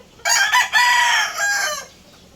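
A gamecock rooster lets out a single loud, close crow lasting under two seconds, with no other sound around it.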